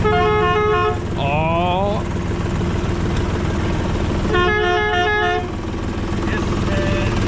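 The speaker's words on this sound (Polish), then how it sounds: "Trąbka włącza się w ten sposób" A tractor's horn honks in two sustained blasts, the first with a wavering pitch, loud and close over a steady engine rumble.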